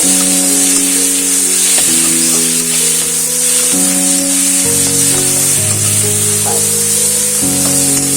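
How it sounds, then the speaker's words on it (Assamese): Nefafu leaves frying in a pan, a loud, steady sizzle running without a break, with no voices over it. "ফ্ৰেণ্ডছ নেখাবখিনি ভাজি লৈছোঁ"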